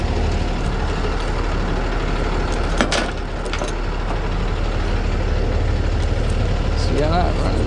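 A Hino truck engine runs steadily at idle, a continuous low rumble close by with a brief rise in the middle; a person talks over it.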